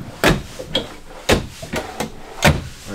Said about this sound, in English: All kinds of drawers.